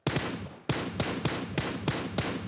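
Rapid bursts of video game gunfire in a police-themed squad shooter, six or seven sharp clustered volleys snapping in a steady rhythm, loud and close with no talk over them.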